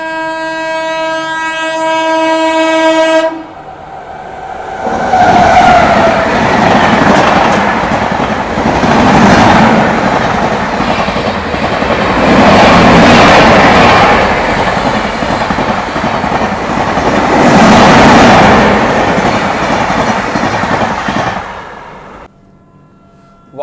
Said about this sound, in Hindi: बगल से भी क्रॉसिंग हो रही है फरक्का एक्सप्रेस की